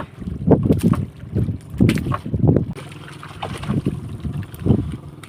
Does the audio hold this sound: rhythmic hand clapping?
no